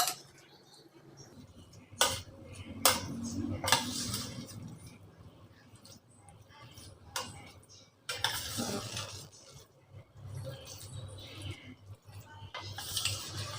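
Curd rice being stirred and mixed with a little milk in a vessel, giving soft, wet squelching and scraping with a few sharper spoon clinks against the metal. The sound is fairly close and steady, and no one speaks.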